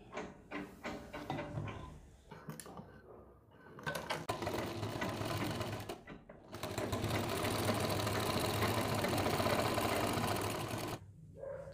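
Sewing machine stitching a sleeve closed, starting with short stop-start bursts of needle clatter, then running in a long steady whir before stopping, close and fairly loud.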